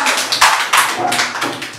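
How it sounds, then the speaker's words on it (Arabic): Children in a kindergarten Arabic reading class clap together for a classmate named Zeinab, a short burst of close, dense handclaps with uneven rhythm and no talk. "تصفيق على زينب"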